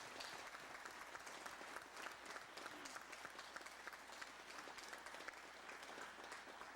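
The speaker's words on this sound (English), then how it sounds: "Give him a nice round of applause." An audience at a country concert applauds, a dense, steady wash of clapping from a crowd that carries on evenly throughout.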